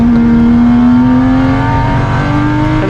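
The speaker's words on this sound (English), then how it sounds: "Turn 11, I think this is Paul Burke in the Targa Tasmania 2500S" A Triumph 2500S race car built for Targa Tasmania runs on a circuit, its engine holding a loud, steady note close by that rises slightly in pitch before leveling off, with no voices.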